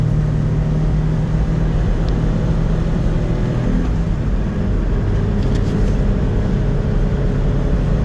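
A 1999 Mitsubishi MiniCab 4x4 kei truck on slightly larger 155 tires, its engine and road noise a steady low rumble throughout from inside the cab, with no talking.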